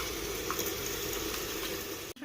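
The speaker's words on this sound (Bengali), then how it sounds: "সমস্ত মশলা দিয়ে ভালো করে কষিয়ে নেবো।" Spices for chicken curry are stir-fried in a pan, a dense, steady sizzle close up with brief stirring, cut off abruptly at the end.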